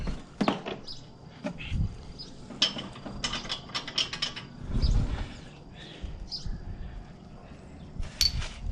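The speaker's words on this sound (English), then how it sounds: "one of my bigger ratchets to get that bolt loose." A ratchet loosening a brake bolt on a 2012 Hyundai Tucson: close, loud bursts of rapid clicking pawl ticks in irregular spurts, with metallic clanks and handling noise between them.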